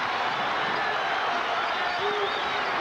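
Basketball arena crowd of about seventeen thousand at an Indiana versus Michigan college game, a dense, sustained roar of cheering filling the hall, loud and continuous.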